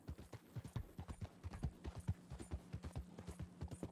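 Horse hooves galloping in Red Dead Redemption 2, a fast, even run of soft thudding hoofbeats with a faint low hum beneath, fairly quiet and without talk.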